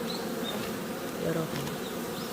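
Honeybees buzz steadily at a hive before wintering, a dense continuous hum of many wings close by, with a few individual bees passing nearer.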